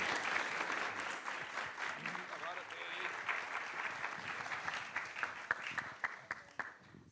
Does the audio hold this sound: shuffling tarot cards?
no